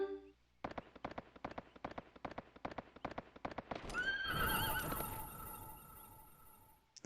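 Horse in the PS2 game Suikoden III gallops with a fast, even clip-clop of hooves, then lets out a loud, drawn-out neigh as the gallop fades.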